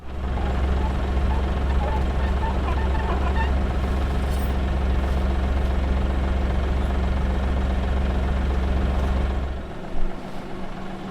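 A tractor engine runs steadily and loudly with a deep low rumble while dragging an implement off a stone wall, then cuts off near the end, leaving a brief clunk.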